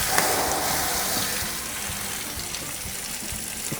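Running tap water pours over a hot cast iron pan being rinsed, a continuous hissing gush with small clinks and splashes throughout, no talking.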